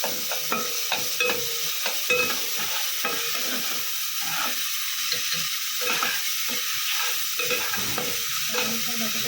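One spoonful of ginger-garlic paste fries in a pan for a cauliflower roast, a close, lively sizzle broken by repeated scraping stirs of a spatula in an uneven rhythm, no talking.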